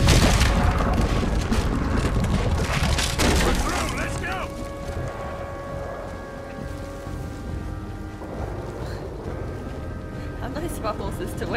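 A loud video game explosion booms out at the start, followed by rumbling debris and crackling that fade into a low, steady background.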